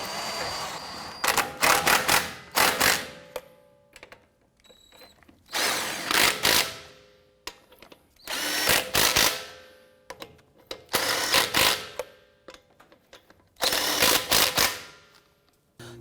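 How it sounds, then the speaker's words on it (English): A power impact tool snugs lug nuts on a 2011-2018 Ram 1500 front wheel during a ball joint replacement, five separate close, loud whirring bursts of a second or two each, separated by short pauses. "Let's go ahead and snug these lug nuts down."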